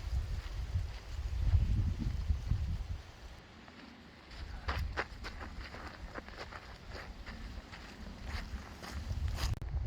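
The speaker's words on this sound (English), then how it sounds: "It's super windy" Gusty wind buffets the microphone in low rumbling bursts on Harry's Ridge Trail at Mount Saint Helens, easing and rising again, with faint crackles and rustles in between; no one speaks.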